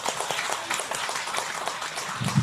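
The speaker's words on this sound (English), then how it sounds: "Give her a hand clap." An audience applauds after a woman is introduced as a speaker at an evening event at a Best Western, a steady wash of clapping lasting a couple of seconds.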